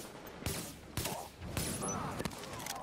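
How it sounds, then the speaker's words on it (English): Rapid bursts of gunfire in the shooter game The Division, several sharp volleys spaced about half a second apart with clattering tails between them, close and fairly loud, no speech. "that was a high rate of fire"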